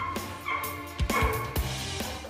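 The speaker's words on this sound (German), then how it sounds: "der bellt jetzt schon wieder die ganze Zeit rum" A dog left alone in an apartment barks repeatedly, with several sharp, close barks and yips in quick succession over a constant background.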